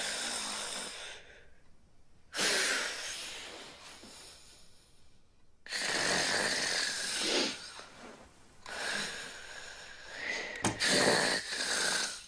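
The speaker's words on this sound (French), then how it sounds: "Vous savez que vous ronflez?" A person snores in long, rasping, broadband breaths that swell and fade in a slow irregular rhythm, loud and close, with no other voices.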